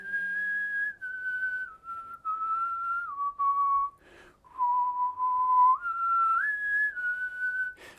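A single person whistles the cello line of the hymn Nearer, My God, to Thee: a clear, close solo whistle moving through sustained, stepwise pitches with a brief pause midway, with no other sound behind it.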